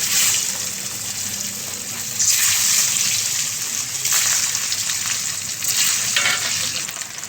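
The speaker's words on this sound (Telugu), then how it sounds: "ఇలా గోల్డెన్ బ్రౌన్ వచ్చేదాకా వేయించుకోవాలి." Eggs fry in hot oil until golden brown for Hyderabadi egg biryani, making a loud, continuous sizzle that swells in bursts as they are moved around the pan.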